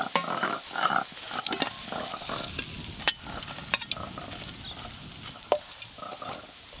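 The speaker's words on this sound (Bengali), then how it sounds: "লাউয়ের বড়া ভাজা হয়ে গেল।" Bottle gourd fritters frying in hot oil, a soft sizzle broken by repeated scraping and clinking of a spatula against the pan, close by and irregular.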